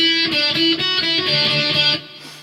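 Electric guitar playing the intro of a song, a loud run of ringing picked notes and chords that cuts off abruptly near the end, with no talking.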